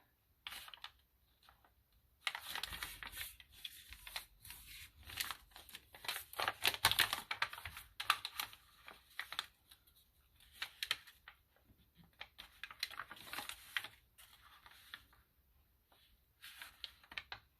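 Paper pages for a junk journal are folded and creased with soft crinkling, rustling and tapping, steady and close for most of the time, with a few quiet pauses.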